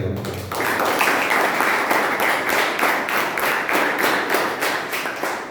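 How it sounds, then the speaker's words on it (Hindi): An audience at a religious scholarly seminar gives a burst of loud applause for the honoured speakers, dense rhythmic clapping starting abruptly and continuing steadily with little speech. "तो सबसे पहले पंडित जी को और प्रासुक जी को एक बार जोरदार तालियां बजाएं।"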